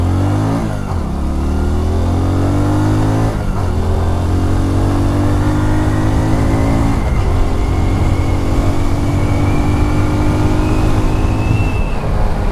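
A new Hero Splendor Plus Xtec motorcycle accelerating hard on an empty road, engine note rising in repeated climbing sweeps broken by gear changes, loud and close with no talk.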